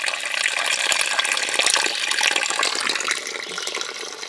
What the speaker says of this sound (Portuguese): A água aqui, ó, como tá jorrando.